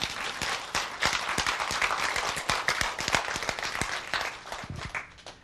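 A lecture audience claps together, a dense patter of many hands lasting a few seconds before thinning out and fading at the end.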